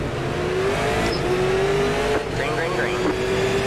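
A Super Late Model race car in the iRacing sim, its engine revving hard and climbing through the gears in a pack of other cars, loud and continuous, with a voice speaking over it.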